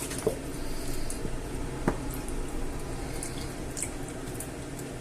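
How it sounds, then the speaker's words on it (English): Water is poured into a container and shaken while tuna and clam rice is being prepared, giving soft dripping and sloshing with a couple of sharp splashes over a low, steady background, without speech. "I'm going to put some water in this. I'll give it a shake about."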